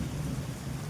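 A brief burst of a summer thunderstorm with hail: dense rain hiss over a low, rolling thunder rumble, loud and continuous, with no voices.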